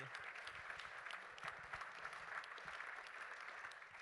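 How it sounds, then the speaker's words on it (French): Steady applause from a conference audience in Monaco thanking a guest speaker, a continuous dense patter of many hands held at an even level for the whole stretch. "Je vous remercie d'applaudir Sylvain Bottary."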